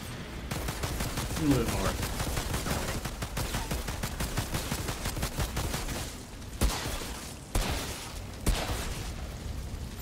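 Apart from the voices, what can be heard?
pistol gunfire in the video game Outriders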